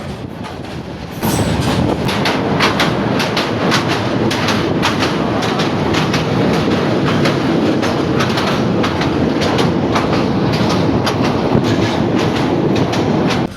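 A local train pulls out of Dinajpur, heard from on board: a loud, steady rumble with rhythmic clickety-clack of wheels over rail joints that runs continuously for more than ten seconds.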